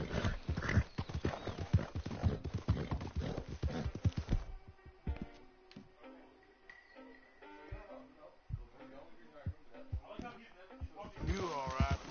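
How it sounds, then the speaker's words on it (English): A horse in Red Dead Online trots with brisk, repeated clip-clopping hooves and lets out a whinny, moderately loud and close, with a voice speaking over parts of it. "this horse is so big and so tough it rides through water"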